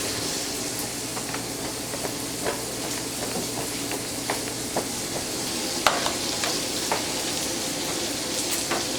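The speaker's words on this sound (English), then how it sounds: "And got some butter in the skillet." Butter sizzles in a skillet, ready for mushroom duxelles for beef Wellington: a steady, close frying hiss with scattered light pops and scrapes.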